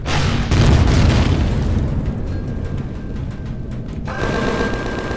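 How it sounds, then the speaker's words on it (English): Explosions blast apart a radar station in the video game Empyrion – Galactic Survival, a loud rumbling boom up front that decays into a long, crackling roar before a second surge of burning and rattling noise near the end. "I didn't want to blow everything up"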